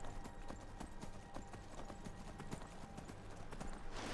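Hooves of a horse in Skyrim clip-clop in a fast, steady rhythm, the sharp hoof strikes sounding close over low ambient noise.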